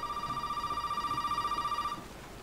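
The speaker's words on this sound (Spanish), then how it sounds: "Ok, suena el teléfono." A telephone in the video game Resident Evil 7 rings with a steady electronic trill for about two seconds, then stops, leaving faint background noise.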